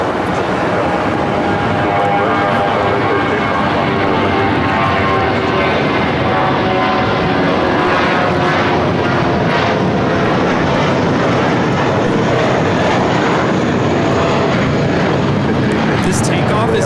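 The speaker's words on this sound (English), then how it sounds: "This takeoff is United Airlines 1832 taking off to Vancouver on the A320." A United Airlines Airbus A320 jet takes off at LAX with a loud, steady engine roar that holds throughout, heard up close from the airfield.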